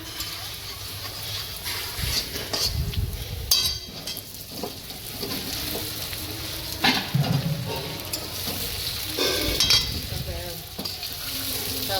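Bajra and methi muthiya drop into a sesame-seed tempering and fry in a pan with a continuous loud sizzle, punctuated by stirring scrapes and light clinks of utensil on metal.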